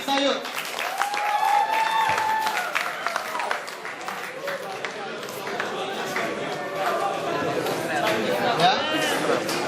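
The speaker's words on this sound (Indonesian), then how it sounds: "Beri tepuk tangan juga untuk kedua cakahim kita" Audience applause at an Indonesian panel session, steady clapping with cheers and crowd chatter mixed in throughout, fairly loud and close, with voices calling out over it.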